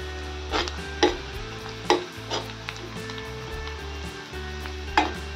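Chopped onion sizzles steadily in a hot pan for a wheat-flour upma, with a few sharp spoon scrapes and clacks cutting through a low constant hum, all close and without talk.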